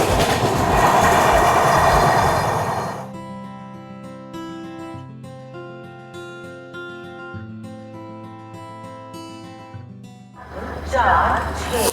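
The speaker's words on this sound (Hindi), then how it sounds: "Overtaking Mahakaushal express." A Sachkhand Express train overtakes the Mahakaushal Express, starting with a loud rush of passing carriages. The sound then drops to a quieter rumble under a sustained multi-tone horn, and a louder rush returns near the end.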